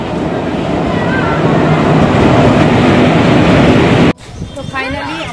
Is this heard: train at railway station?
yes